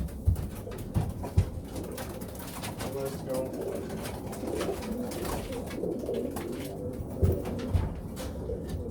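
Racing pigeons coo softly and repeatedly in a loft, low throaty calls under a brief spoken remark and shuffling background noise.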